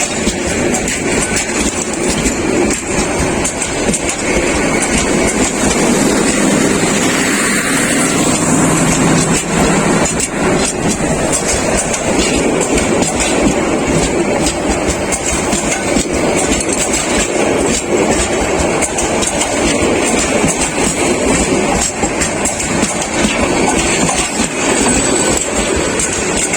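The Mohanagar Express between Chittagong and Dhaka rumbles loudly and continuously along the tracks, with a constant rattling clatter and no pauses, heard from close by inside an AC compartment.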